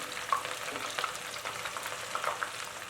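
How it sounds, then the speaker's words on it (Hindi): Sliced onions frying in hot oil produce a soft, crackly sizzle with faint scattered pops and light stirring, fairly quiet and close. "इनको मैं ऑयल में डाल दूँगी। ये ऑयल अच्छा खासा गर्म हो चुका है। इसको हम अच्छा सा गोल्डन ब्राउन कर लेंगे।"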